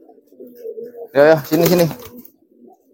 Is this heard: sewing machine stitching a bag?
no